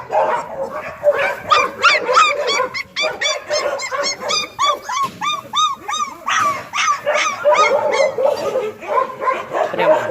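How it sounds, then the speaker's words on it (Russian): Many puppies at an animal shelter in Yakutsk, their cages full, whimper and yip over and over in a dense, continuous chorus of high, wavering cries close by. A voice speaks among them. "Очень много щенков."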